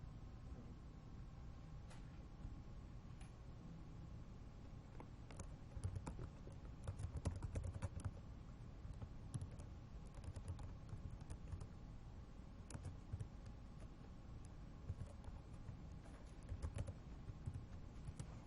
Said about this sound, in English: Well, I have to type it in.